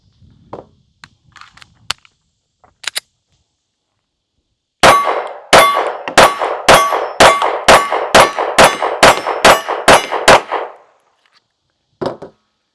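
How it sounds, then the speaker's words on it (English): Sig P365 Luxe pistol in .380 ACP firing a full magazine, about eleven sharp, loud shots in a quick steady rhythm, with a few scattered clicks and handling noises before and one more sharp hit afterward. "Let's shoot this one last mag here."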